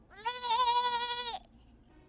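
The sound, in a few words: sheep-like bleating in Bambi 2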